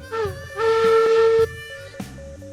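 A steam train whistle in the game Railroads Online gives a short toot followed by a longer blast, then a brief third toot, set over low rumbling.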